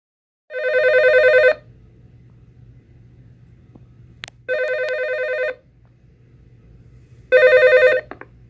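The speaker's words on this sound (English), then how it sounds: "the phone that Hammond picks up that was ringing was like is a different phone in the bunker, but they definitely use that sound." A pearl gray Comdial Executech 2 6614 PG desk telephone, the control room phone from the Jurassic Park film, rings in three separate bursts, loud and close, with a faint low hum in the pauses between rings.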